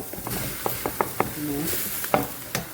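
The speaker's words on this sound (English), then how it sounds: "So the next thing I normally do is to add the mushroom," Mushrooms added to a hot pan of browning vegetables crackle and sizzle at a moderate level, with scattered pops and a few utensil taps over several seconds.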